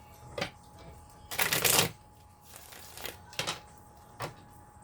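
Tarot cards are shuffled in a few quick, soft riffling bursts with short pauses between them. The sound is close and quiet, with no talk.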